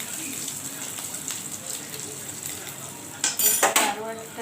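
Katla fish pieces being turned over with a fork as they fry, a steady low sizzle topped by a burst of sharp metallic clinks of fork against pan near the end, close by, with no talk.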